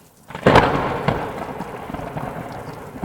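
Thunder cracks and rolls in a cartoon, a sharp loud boom fading into a rumbling tail, with heavy rain hissing steadily underneath.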